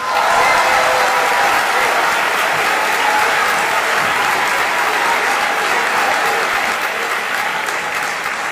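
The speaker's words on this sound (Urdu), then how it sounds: "آپ سب کی بھرپور تالیوں میں" Loud, sustained applause from a large crowd at an Urdu poetry mushaira in Dubai, steady and dense throughout with no talking over it.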